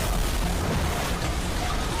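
Dense, loud rumbling bursts and booming blasts from Call of Duty gameplay form a continuous wash of explosion noise with no clear gaps.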